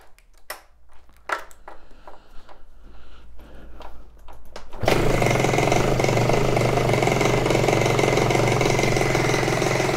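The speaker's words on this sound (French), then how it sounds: "je vais tout de suite essayer de démarrer mon booster." A cheap MBK Booster scooter, its carburettor needing adjustment, sits quiet with a few faint clicks and knocks, then its small two-stroke engine bursts into life and idles loudly and steadily close by.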